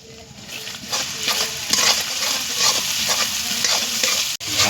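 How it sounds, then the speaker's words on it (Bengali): Ginger-garlic paste frying in a pan for chicken ghugni, stirred vigorously: a close, steady sizzle with repeated scraping spatula strokes that ends in a sudden brief cut. "আদা রসুনের পেস্ট দিয়ে ভালো মতো কষানো হয়ে গেছে"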